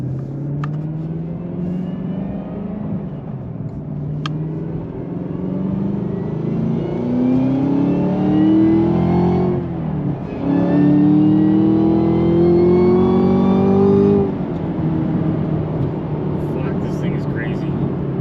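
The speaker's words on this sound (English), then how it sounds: "Definitely hear the supercharger whine a lot more with this cold air intake." Camaro ZL1 1LE with a JLT cold air intake accelerating hard, its engine roar rising through gears with a high supercharger whine climbing alongside, a brief dip at a shift, then fading away.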